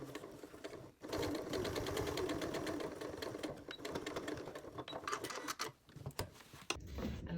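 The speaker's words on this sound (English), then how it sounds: "you can just sew the rest of your bias tape down" A sewing machine runs in a long, steady rhythmic whir while stitching bias tape onto a waterproof fabric bowl cover, then slows into shorter bursts with clicks of handling near the end.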